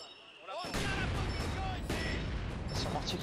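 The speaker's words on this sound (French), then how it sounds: "Il y a son mortier qui me casse les pieds." Repeated booming blasts of mortar fire in Company of Heroes 2, several heavy thuds over a busy battle backdrop, fairly faint, with a voice murmuring underneath.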